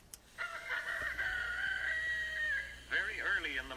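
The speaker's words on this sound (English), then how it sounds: "Very early in the morning, the rooster sends out his call, and the chickens begin to wake" A rooster crows one long, loud call on a farm, followed by hens clucking and calling as they wake in the early morning.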